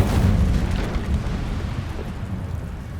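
In the video game Hogwarts Legacy, an Incendio fire spell goes off as a heavy, rumbling blast with a deep whoosh that swells at once and then slowly fades; no one speaks.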